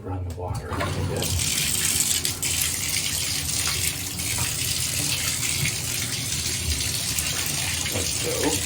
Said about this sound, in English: And then you run the water a little bit.